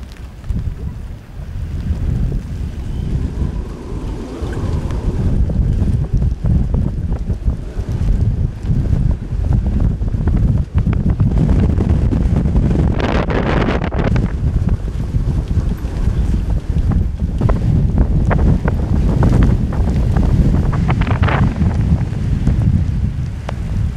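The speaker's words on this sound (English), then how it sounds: "the wind gusts come from seemingly random directions" Strong storm wind roars and buffets the microphone in continuous gusts from shifting directions, with water and anchored sailboat noises mixed in, loud and close throughout.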